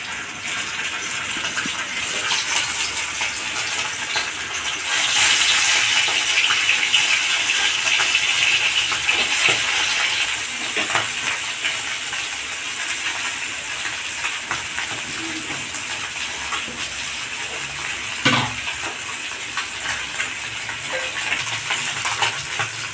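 Fish frying in a pan of hot oil gives a steady, close crackling sizzle that swells louder for a few seconds partway through, with occasional sharper spits and pops.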